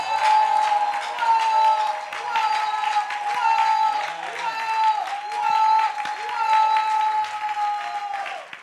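A church congregation claps together through a Sunday service, a steady and fairly loud wash of applause that swells and eases in waves, with a sustained musical tone running underneath.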